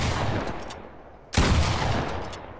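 Gunfire from a Fortnite weapon in the video game rings out as a sustained noisy burst, a sharp loud shot breaking in midway before the sound tails off.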